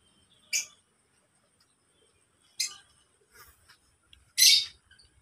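Lovebirds in an aviary give short, sharp chirps, four separate bright calls spaced irregularly against near silence.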